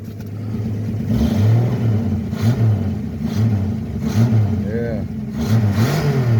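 A 1965 Plymouth Barracuda engine runs close by and revs in repeated rising and falling surges over a steady rumble, while someone talks over it.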